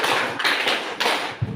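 A classroom group claps in a counting game, about five sharp, fairly even claps in quick succession, close and moderately loud.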